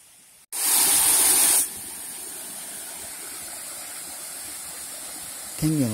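A loud roar of falling water from the Koromo waterfall in Iwate, Japan swells in, then settles into a steady broadband rush; a voice begins briefly at the very end.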